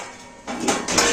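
Plates and pots clatter in a home kitchen while tempering and tea cook, a short burst of loud metallic and ceramic knocks that grows busier toward the end, with no talk.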